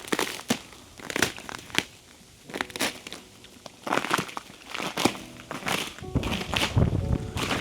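Footsteps crunch and crackle over ground frozen solid after an ice storm in Tennessee, irregular steps close by with sharp cracking snaps.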